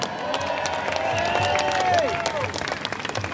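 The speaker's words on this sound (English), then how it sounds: "Another big cheer for Darren Bergworth" A crowd at a protest rally outside Parliament House in Melbourne cheers and claps for Darren Bergworth, a short, close burst of applause mixed with scattered shouts that rises and then eases.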